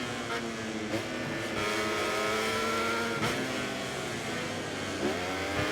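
Honda racing motorcycle engine in MotoGP 24, a continuous loud high-revving drone with rising harmonic sweeps and brief dips at gear changes, steady throughout with no talk.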